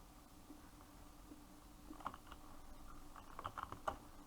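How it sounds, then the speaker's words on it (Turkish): Soft, irregular keyboard typing clicks at a low level, clustering into quicker bursts toward the end, with no talking. "Ne klavye sesini dinliyor ya?"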